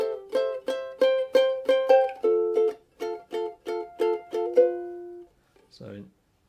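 A ukulele is plucked fingerstyle through a four-chord variation of a song, a steady run of about a dozen bright, evenly spaced plucked chords, close and clear, ending in a short soft noise.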